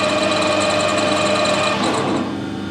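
A lathe turns a turnip between centres at 640 RPM as a tool cuts it, making a loud, close, continuous whirring machine drone with a slight change in tone near the end.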